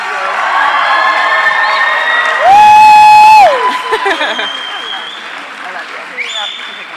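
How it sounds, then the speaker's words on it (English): Crowd at a roller derby double header applauding and cheering, loud and close, with whoops and shouts mixed into the clapping before a sustained electronic tone cuts in and the noise tapers off. "Let's give them a round of applause."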